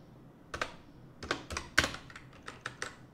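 Someone types a command on a computer keyboard, with close, crisp keystrokes in uneven bursts and small pauses between them.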